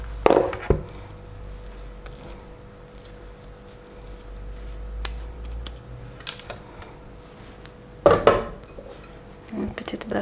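Chapati dough is placed back into a bowl in a kitchen, with two short clattering knocks of bowl and utensils near the start and end and quiet handling in between.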